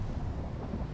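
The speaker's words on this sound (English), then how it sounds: "Boom. See the lightning?" Thunder from a lightning storm in the survival game Icarus, a dense low rumble filling the whole second at steady strength, no voices.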